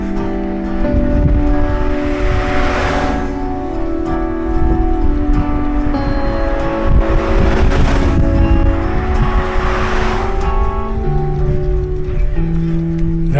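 Cars pass along a road during a half marathon in Waterfall City, a continuous loud engine and tyre rush with swelling passes, close by and without voices.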